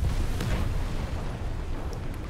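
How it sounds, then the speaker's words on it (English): Artillery shells pound a spawn point in War Thunder, a rumbling barrage of deep, dense booms rolling continuously with no pause, loud and heavy in the low end. "Artillery strike on our spawn point"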